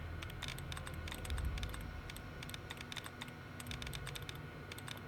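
Rapid keyboard clicking from hacking a terminal in Fallout: New Vegas, with quick irregular bursts of crisp keystrokes over a steady low background hum, fairly close and continuous throughout.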